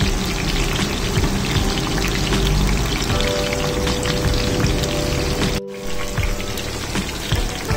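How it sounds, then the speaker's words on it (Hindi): Chicken pieces for Schezwan chicken frying in hot oil, a steady dense sizzle and crackle close up that runs throughout, broken by one brief dropout before it resumes. "चिकन पीसेस को एक एक करके फ्राई करें, इकट्ठे मत डालें"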